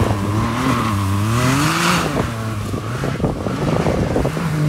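A Can-Am Maverick X3 side-by-side driven hard, its engine revving and shifting pitch up and down, loud and close with wind buffeting the microphone.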